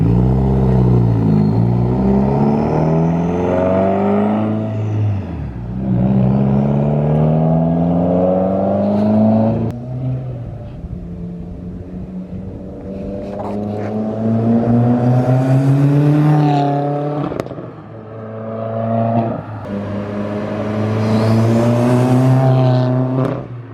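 A bagged Subaru WRX with a Tomei Expreme Ti titanium exhaust revs repeatedly from outside, each rising howl climbing in pitch and falling away, with loud sweeps and short pauses between pulls.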